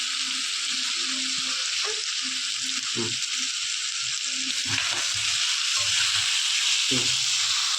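Chicken fries in masala with a steady broadband sizzle, while a spoon stirs the pan in repeated scraping strokes; a voice speaks faintly at moments.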